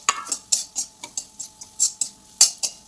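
Metal spoon scraping and clinking in a pan as crumbled leftover chapati is stirred with red chilli powder and spices, about a dozen sharp, evenly spaced strokes, close and fairly loud, with no talking.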